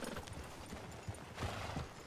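Horse hooves in Red Dead Redemption II, a soft steady clip-clop of a few quick hoofbeats on a trail, faint and close, set under a low game ambience.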